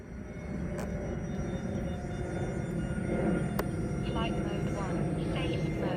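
A small E-flite A-10 UMX radio-controlled model jet flies overhead, giving a steady, continuous airy rumble and whine with faint tonal sweeps as it passes, at moderate distance with no talk.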